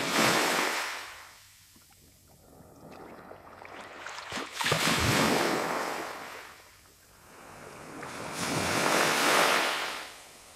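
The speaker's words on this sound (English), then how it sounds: "I'll prompt for some calm waves on the beach." Calm waves on a beach, made as a generated sound effect: slow surges of surf swell and recede in broad washes about every four seconds, with a faint wind hiss and no voices.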